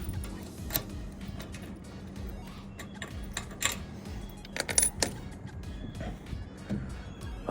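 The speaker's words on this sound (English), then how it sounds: "Now it's one of these keys here, master key." A ring of master keys for the lock on a VW Crafter's roof-rack axe box jangles and clinks in irregular bursts close by, with light metallic ticks and rattles as the keys are handled.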